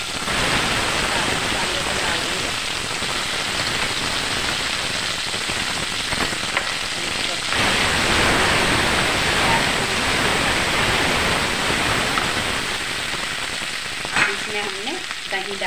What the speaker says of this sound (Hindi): तेल गर्म हो गया, अब इसमें ये मसाला डाल देंगे।